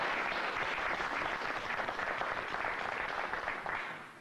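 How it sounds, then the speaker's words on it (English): Audience applause for speaker Jerry Gant, a steady, dense wash of clapping from a crowd that holds evenly and tapers slightly at the end, with no talk over it. "Please give him a round of applause."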